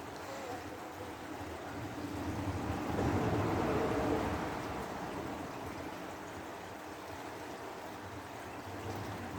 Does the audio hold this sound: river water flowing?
yes